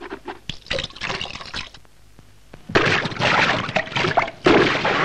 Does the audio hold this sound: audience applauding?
no